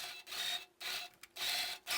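A straight-stitch sewing machine topstitches thick fabric in short, quiet whirring runs, about four bursts with brief pauses between them, heard alone and close by.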